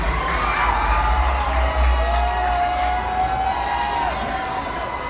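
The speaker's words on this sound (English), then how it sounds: "please give a huge Las Vegas applause for Manila Luzon" A Las Vegas fetish fashion show audience cheers and whoops for a performer, a loud, sustained roar of crowd noise with scattered shouts throughout.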